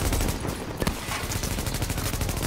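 Rapid automatic gunfire with heavy recoil in The Division video game, a dense stream of shots running continuously with a brief stutter partway through, loud and close.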